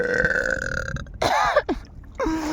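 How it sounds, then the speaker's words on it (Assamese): A loud, drawn-out burp from a young man among friends in an Assamese village, deep and gurgling, followed by a couple of shorter croaking belches, close to the mic with no talk. "ধুনীয়া উগাৰ এটা দি দিয়া"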